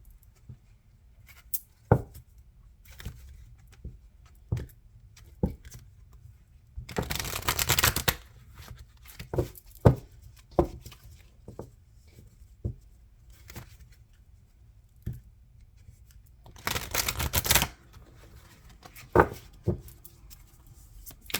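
Oracle cards being shuffled and handled, two short dense riffling bursts among scattered soft taps and card slaps, close and quiet with long near-silent gaps.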